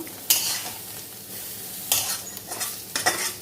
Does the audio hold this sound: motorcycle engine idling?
no